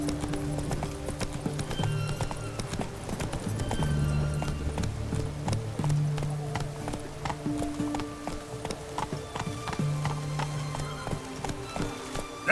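Roach, a horse in The Witcher video game, gallops with a steady, close rhythm of clip-clop hoofbeats and an occasional whinny over a low background tone.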